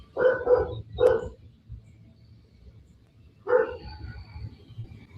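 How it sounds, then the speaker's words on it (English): A dog barks in short bursts: three quick barks, a pause, then one more, heard as part of played police video footage of a dog inside a family's home. "The whole time we hear the dog barking"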